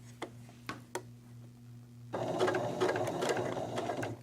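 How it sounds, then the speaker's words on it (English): A home sewing machine ticks through a few isolated needle strokes, then runs in a fast, continuous mechanical whir before halting with the needle positioned, heard close and alone. "So now that I've pressed it and I sew, it's going to stop in the up position."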